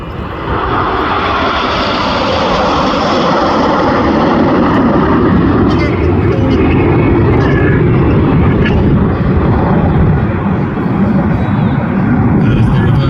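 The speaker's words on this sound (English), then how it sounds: "As the team sweep in from the right-hand side, the aim of the first half of the show is to fly all the aircraft as one" Red Arrows BAE Hawk jets sweep past in formation at an air festival display, a loud, sustained roar that swells and holds throughout with no speech heard.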